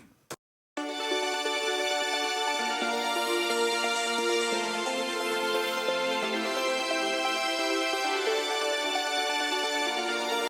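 Lush synthesized strings swell in after a short click, holding a rich sustained chord that fills the space evenly until the end.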